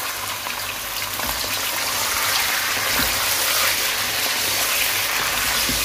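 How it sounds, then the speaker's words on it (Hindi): Chicken pieces fry in hot oil for biryani, a broad steady hissing roar that fills the whole span without breaks, loud and close, with no voices. "अब हम डालेंगे अपना ये चिकन, इसके अंदर डालेंगे और इसको करेंगे फ्राई।"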